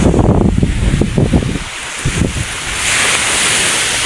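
Sea waves at a seaside spot, loud rushing surf with gusty wind buffeting the microphone, swelling into a steady wash.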